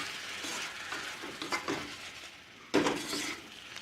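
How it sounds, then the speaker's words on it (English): Medium-sized spicy shrimp sizzle in a pan while a utensil stirs them, scraping and clinking against the metal in uneven strokes, with a louder scrape near the end, close and fairly quiet. "I'm consistently mixing our ingredients together"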